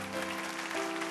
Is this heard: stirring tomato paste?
no